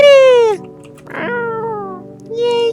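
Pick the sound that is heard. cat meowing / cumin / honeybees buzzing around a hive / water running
cat meowing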